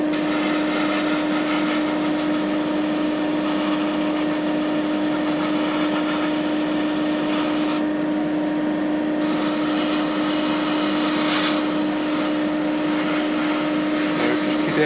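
Airbrush spraying paint onto a 1/48 Airfix Messerschmitt Bf109E model, a steady close hiss with a constant compressor hum underneath, running continuously with one brief dip in the upper hiss.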